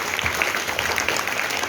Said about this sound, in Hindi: उनके लिए भी आप जोरदार ताली बजा के स्वागत करेंगे उनका